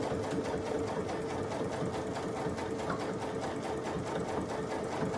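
A sewing machine back stitching while a hanging kitchen towel is made, running steadily and loudly with a fast, even mechanical whir and rapid needle rhythm throughout.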